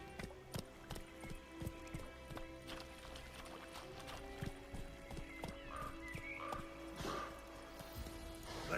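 Roach, Geralt's horse in The Witcher 3 video game, gallops with a steady rhythmic clip-clop of hooves, close and clear, with a whinny and faint game sounds layered in.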